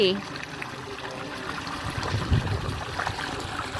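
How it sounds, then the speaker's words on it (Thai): A steady trickle of water runs from a pipe and splashes nearby in a mango orchard, with soft background noise and faint movement. "นี่เทน้ำที่ไหลจากท่อดิ"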